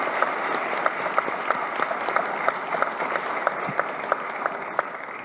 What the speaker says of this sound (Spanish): Por favor, acompáñenme con un fuerte aplauso para las dos alcaldesas de Bogotá y Ciudad de México.